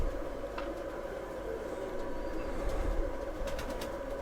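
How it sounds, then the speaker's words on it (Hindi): Missay pigeons, white-tailed birds kept by a fancier in Jammu, giving soft low cooing amid a steady ambient hum, faint and close with no talk. "वाइट ही सांग में जी मिसे कबूतर"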